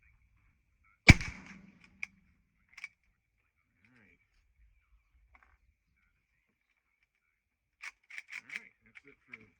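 A Rossi R92 .357 Magnum lever-action rifle fires at a range: one sharp, loud shot near the start, then a few fainter distant pops and clicks later on.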